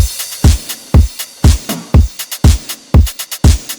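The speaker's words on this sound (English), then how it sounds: "I also added a crash and an open hi-hat for the verses." Drum beat for a track: steady booming kicks with sharp hits above, a crash and open hi-hat ringing through the pattern, loud and close with no talking.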